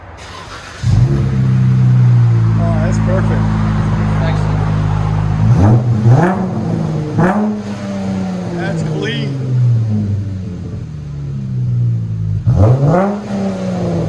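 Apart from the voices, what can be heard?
V6 car engine revving through new mufflers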